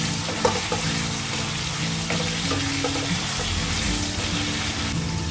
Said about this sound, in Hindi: चिकन को हल्का सा मैं जो है गोल्डन ब्राउन कह लें या कलर चेंज होने तक इसको जो है मैं जो भूनूंगी